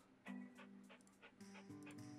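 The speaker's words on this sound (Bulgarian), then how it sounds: "това куче ще спре ли да диша или по-скоро малко по-бавничко да диша" A dog pants rapidly and steadily near a house renovation beside a lake, quick rhythmic breaths heard close and fairly faint over a quiet room with no talking.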